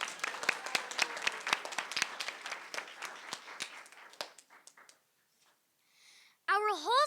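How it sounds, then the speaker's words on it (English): Students and staff applaud birthday students at a whole-school meeting, a dense round of clapping that thins out and fades after about four seconds, followed by near silence and then a short burst of voice at the end. "let's give our birthday stars a round of applause"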